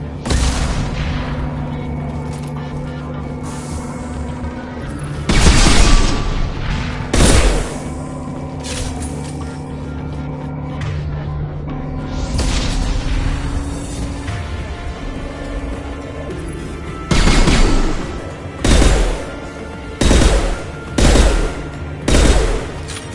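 Gunfire from an attacking gunship in the video game Mass Effect 2 comes as loud, heavy bursts and booms. The volleys are spaced out at first, then come in a quick string of short blasts near the end over a low humming game soundtrack.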